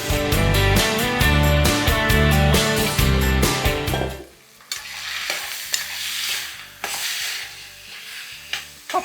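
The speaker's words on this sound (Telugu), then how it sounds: "వేసుకుని నూనెలో కాస్త ఇలా వేగనివ్వాలి కొంచెం కలర్ వచ్చేంత వరకు వేగనివ్వాలి" Lentils frying in oil in a pan while cooking dosakaya pappu, Telugu cucumber dal: steady close sizzling with stirring scrapes, loud at first, then quieter with intermittent clinks and stirring knocks.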